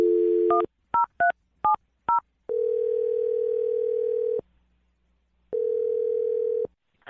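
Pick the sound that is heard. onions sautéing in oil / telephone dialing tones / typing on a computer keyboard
telephone dialing tones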